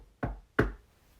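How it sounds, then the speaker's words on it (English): Two firm knocks land on a cottage front door, close and distinct, spaced about a third of a second apart, with quiet in between and after. "I knocked on the front door,"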